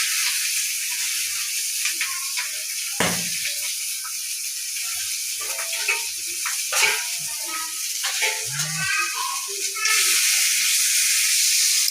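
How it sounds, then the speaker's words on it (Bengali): Six pabda fish frying in oil in a pan, a constant high hiss with intermittent crackles, pops and utensil clinks, close by, the sizzle swelling louder near the end. "মাছ ভাজা হচ্ছে"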